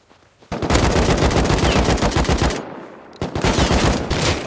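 An AK rifle in the game Rust fires in long rapid automatic bursts, loud and close, with a brief pause before another fast stream of shots.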